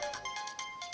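Mobile phone ringtone for an incoming call, a repeating electronic melody of bright tonal bursts, close and steady, heard alone.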